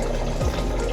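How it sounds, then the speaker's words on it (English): Tap water runs steadily into a sink during a medical handwashing rinse, a continuous close splashing stream with no voices. "Next is thorough wash and rinse hands."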